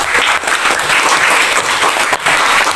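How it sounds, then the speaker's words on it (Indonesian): Junior high school class applauding a student group after a presentation, a short burst of brisk, close clapping with brief dips in intensity. "tepuk tangan untuk kelompok"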